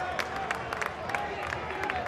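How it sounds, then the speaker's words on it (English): A stadium crowd at a Louisville City FC versus Rhode Island soccer match gives sarcastic applause to a player: scattered claps and a low murmur, moderately distant, spread over about two seconds. "Back out to Holstead, who draws sarcastic applause."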